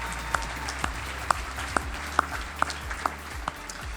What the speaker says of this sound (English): So we can get a round of applause for our recognition committee.